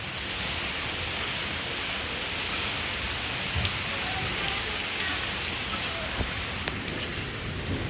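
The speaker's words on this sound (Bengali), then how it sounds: "এই দেখো বৃষ্টি হচ্ছে" Rain falls steadily outdoors, a dense even hiss of drops with a few slightly sharper patters, constant and unbroken for several seconds.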